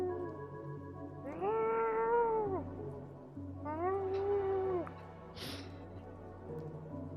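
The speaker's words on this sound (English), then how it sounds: "you forgot to feed your cat just outside the door" A house cat meows two long, drawn-out times just outside a door, each call rising and falling, over a low steady hum with a brief soft rustle after.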